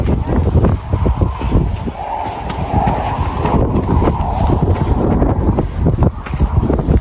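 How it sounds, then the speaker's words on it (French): Strong, gusty wind buffets the microphone on high ground in Iceland, a loud continuous roar that surges and dips throughout with no break. "Il y a beaucoup de vent en plus, on est en hauteur."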